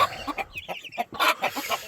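A hen and her month-old chicks cluck and peep in a coop, a run of close, irregular clucks with high chirps scattered between them and no talk over them.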